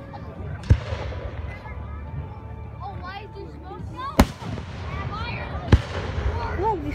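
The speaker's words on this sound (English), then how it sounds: "there's fireworks way down there" Outdoor fireworks show with three sharp, loud bangs spread across several seconds, plus crackling and whistling bursts in between, while people talk and exclaim nearby.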